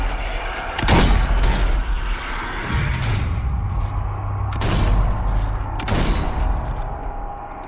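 Rapid bursts of gunfire in the zombie shooter Zombie Army 4, with sharp volleys at intervals over a low mechanical rumble and a sustained hum, loud and close with no talk.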